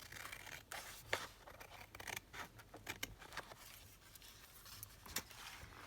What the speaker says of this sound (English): let me just trim it round the edge